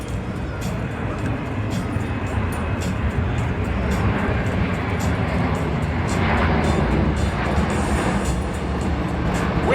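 Large military aircraft with tall winglets and a 170-foot wingspan powers its engines back up at the MCAS Miramar air show, giving a loud, steady, broadband roar that swells slightly and holds throughout.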